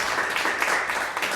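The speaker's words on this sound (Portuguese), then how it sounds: "Vamos aplaudir a Jesus por isso?" Church congregation applauding a sermon about Jesus at a conference, a dense, steady wash of clapping with no speech over it.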